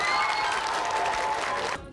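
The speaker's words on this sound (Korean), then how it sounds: "인사하면 박수 한번 쳐주는 건데." Audience applause from a crowd at a 1998 Korean film promotional event with actress Lee Seung-yeon, steady dense clapping throughout that cuts off sharply near the end.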